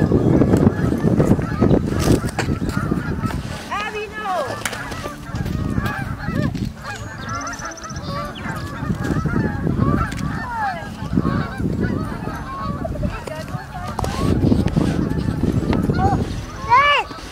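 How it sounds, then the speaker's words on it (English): Geese honking repeatedly at an outdoor family Easter egg hunt, a flock's overlapping calls rising and falling throughout, close and fairly loud, mixed with children and adults talking. "Geese? Canned geese?"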